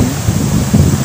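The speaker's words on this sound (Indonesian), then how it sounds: "Anginnya gede banget nih" Strong wind buffets the microphone at a river junction at night during a fishing trip, a loud, continuous low rumble with gusty swells and no other sounds.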